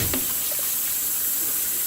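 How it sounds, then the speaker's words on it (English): Water that has washed dandelion roots is poured out from a container, a short, soft splash and trickle heard close by. "we'll pour that right out"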